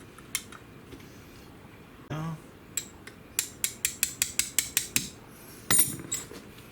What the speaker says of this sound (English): So you just got to put the safety back in.